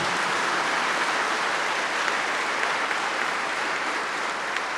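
A church congregation at Mass applauds, a dense, continuous clapping from many hands that fills the space at even loudness, with no speech over it.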